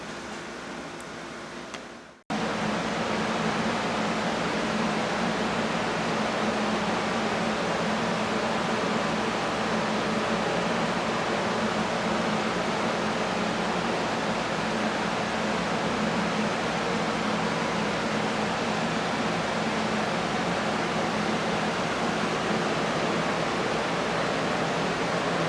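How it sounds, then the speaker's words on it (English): Fluval FX6 aquarium canister filter running in a fish room, a steady broadband whoosh of water and motor hum with a low tonal drone, continuous and even after a brief quieter start. "Pretty heavy filtration on this, the FX6 fluval filter underneath."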